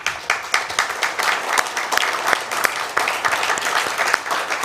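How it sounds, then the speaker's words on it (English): An audience applauds staff at the dedication of a renovated 1930s hall, a dense, steady burst of many hands clapping with sharp individual claps standing out throughout. "Let's applaud these wonderful staff"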